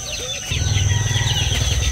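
Breeder chickens and a rooster in a pen, soft clucking and low murmuring that swells after a brief opening call, with steady insect-like background hiss.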